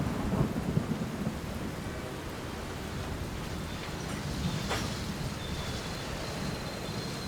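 Heavy rain pours steadily while thunder rumbles low and a sharp crack breaks through midway, a dense stormy wash with no voices.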